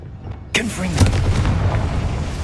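A Confringo fire-blast spell cast in Hogwarts Legacy erupts as a sudden loud boom, followed by a sustained rumbling, crackling burst that stays strong for a couple of seconds.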